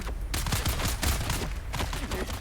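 Rapid bursts of gunfire from the video game Dune Awakening, a dense, loud run of overlapping shots filling the whole moment with no pauses and no talking.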